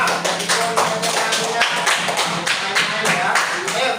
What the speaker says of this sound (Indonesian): kasih aplaus untuk kelompok 2